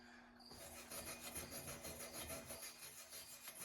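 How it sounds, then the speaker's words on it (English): A stainless steel wire brush scrubs hard across a cast transmission pan, a steady rasping scrape in rapid back-and-forth strokes, close and loud, starting after a brief quiet moment. "we're gonna give it a real good cleaning again. Stainless steel brush"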